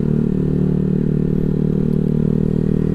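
Honda Vario 150 scooter-style motorcycle with a Black Devil exhaust running steadily, a loud, continuous low engine drone heard up close from the rider's seat, with no talk.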